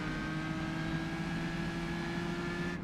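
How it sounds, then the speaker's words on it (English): Race car at the Isle of Man time trial, a steady, loud engine drone with strong tonal harmonics sustained for the whole stretch and no talk over it; distinct downshift changes are not evident. "You can hear the downshifts and all that stuff as he tries to keep the car under control."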